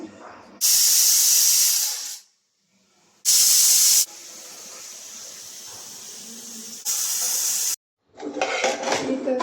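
Pressure cooker on a stove cooking dal, venting loud sharp bursts of hissing steam three times, with quieter hiss and clatter between them.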